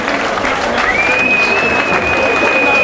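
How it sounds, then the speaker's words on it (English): A crowd at a boxing match gives loud, continuous applause for the boxers, with dense clapping throughout and a thin whistle-like tone rising partway through. "Big round of applause for boxers, ladies and gentlemen."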